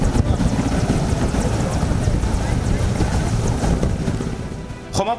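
Indian Air Force Mi-17 helicopter flying to Tezpur, giving a loud, continuous rotor and engine roar with a steady windy rush that fades slightly near the end.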